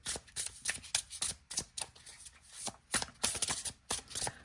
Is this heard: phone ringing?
no